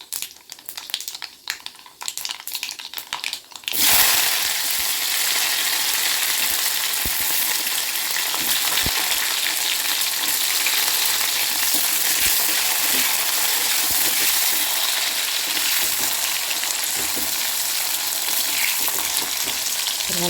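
After a few seconds of quieter clatter, a loud, steady sizzle of onions and curry leaves frying in hot oil starts and continues evenly to the end.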